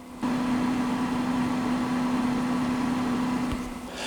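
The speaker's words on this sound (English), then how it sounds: "I'm going to put my mic right up next to the fridge so you can hear what it sounds like." An ICECO VL60 Pro 12V portable fridge runs with its compressor producing a steady, close-up low hum over a soft airy whir, starting abruptly and holding evenly throughout with a faint click near the end.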